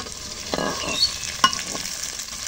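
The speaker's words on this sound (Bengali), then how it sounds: "এখন তেজপাতা দিই পেঁয়াজ ভাজার মধ্যে।" Bay leaves dropped into onions frying in oil, giving a steady sizzle with a brief stirring scrape and a sharp clink near the middle.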